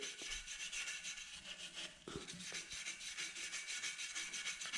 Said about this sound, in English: we're gonna scrape it a little bit.